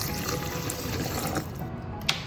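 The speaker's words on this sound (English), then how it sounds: "I'll just put it directly into my blender and soak it there with water." Water is poured into a blender holding chia seeds, a short, soft splashing and gurgling fill that runs briefly and ends with a small clink.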